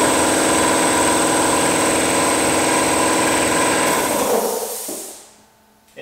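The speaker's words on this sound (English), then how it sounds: "It can also turn on my compressor." An air compressor runs loud and steady, powered by an EcoFlow Delta Pro Ultra power station, then winds down and cuts out near the end with a brief knock.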